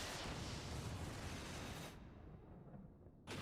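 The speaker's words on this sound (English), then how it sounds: "World-ending explosion." A world-ending explosion in Final Fantasy XIV roars with a loud, dense blast for about two seconds, then drops away to a low lingering rumble.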